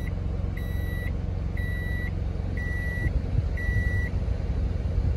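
Personal microwave oven, unboxed and tested by a truck driver, beeps four times in an even rhythm to signal it has finished, each beep clear and steady over a constant low engine-like rumble.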